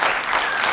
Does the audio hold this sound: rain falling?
no